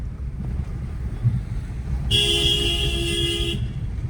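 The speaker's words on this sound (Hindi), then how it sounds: "और लॉन्ग हॉर्न प्रेस करो" A single long car horn blast sounds for about a second and a half over steady engine and road rumble.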